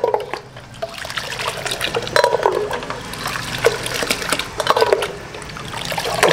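Rooh Afza syrup poured into iced water to make watermelon sharbat, giving a steady close liquid pour and splash with a few louder gurgles, with no talking.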